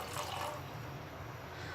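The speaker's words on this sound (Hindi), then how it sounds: "तो आधा लीटर दूध इसमें डाल देना है।" Half a litre of milk is poured into a pan in a steady, continuous liquid stream, close and fairly soft, with no talking.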